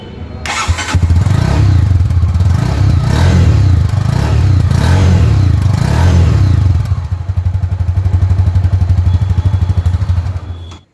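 A Honda Hornet 2.0 motorcycle starts up close by, and its exhaust settles into a loud, steady low idle thrum. A brief dip in the middle gives way to the same even burble.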